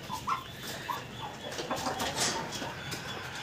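Aseel chickens clucking at an Aseel poultry sale, a few short clucks and calls from nearby birds over a steady busy background hum, with no talking.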